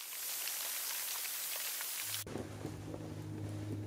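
Rain falling in a forest on the Ros River, a steady broadband patter that turns abruptly into a lower, heavier drumming, as if on a nearby surface, with no voices.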